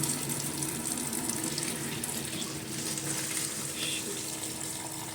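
Water from a pot of boiled ramen noodles pours out steadily as the noodles are drained, making a continuous gushing, splashing rush that stays fairly loud and even throughout.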